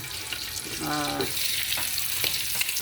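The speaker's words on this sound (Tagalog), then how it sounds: "piniritong isda" A flat fish fries in a home pan, a steady close hiss and crackle of oil with a few small pops throughout.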